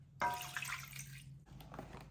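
Water splashes and streams into a container in a short pour, a steady broadband rush that tapers off, with a faint hum underneath and no voices.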